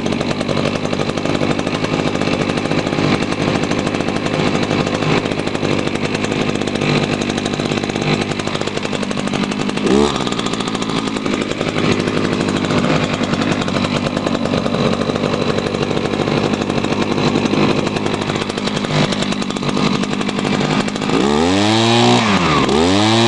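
A petrol lawn mower engine runs steadily at close range for the whole stretch, a dense continuous drone with a brief dip midway and a rising, wavering change in pitch near the end.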